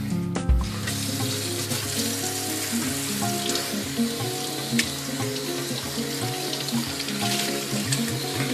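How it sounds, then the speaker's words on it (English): Running tap water pours steadily into a sink while raw meat is rinsed under it, a close, continuous splashing hiss with small clunks near the start and no talking. "we're going to rinse it real quick because we don't know who's touched it."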